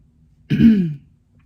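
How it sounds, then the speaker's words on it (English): A single close, gravelly throat clearing, short and loud, in otherwise quiet surroundings. "I clear my throat a lot."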